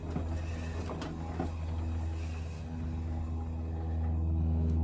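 A Jeep JK Wrangler's rear wheel spins on a bent axle shaft with noisy gears, giving a steady, close mechanical drone and low rumble that swells slightly near the end.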